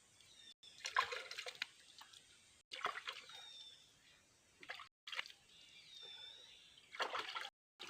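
Water splashes and trickles in bursts, as if hands are being rinsed under a running tap, with short pauses between splashes.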